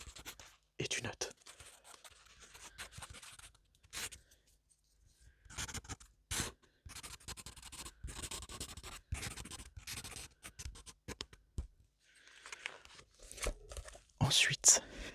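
Pencil scratching across paper in soft, irregular bursts of writing with short pauses, close and quiet in a calm bookstore setting.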